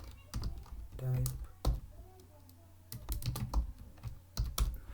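A computer keyboard clatters as a short chat message is typed, in irregular bursts of close, crisp keystrokes separated by brief pauses, with a voice murmuring between them.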